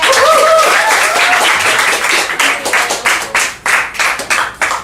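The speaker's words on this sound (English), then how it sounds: "Let's give her a round of applause." An audience applauds for a speaker introduced on stage, loud dense clapping at first that thins into fewer distinct claps toward the end, with a few shouts over it early on.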